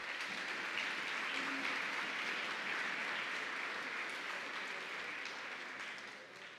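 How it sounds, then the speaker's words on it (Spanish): Audience applause at a regional oratory contest final in the province of Colón, a dense, steady wash of many hands clapping for a student speaker, sustained throughout and tapering slightly at the end, with no voices over it. "Vamos a brindarle un fuerte aplauso a Ian Ramos."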